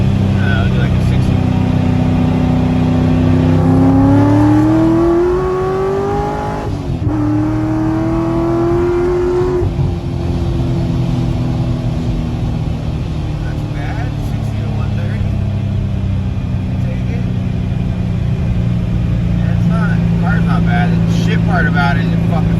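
A Corvette C6 Grand Sport with a boost cam, meth injection and headers, its engine droning loudly from inside the cabin and climbing in pitch through gears as it accelerates, while someone talks over it.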